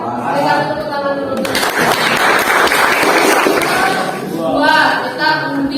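Classroom applause as students clap together during a teaching session, a burst of quick hand claps mixed with chatter and voices that rises in the middle and gives way to talk.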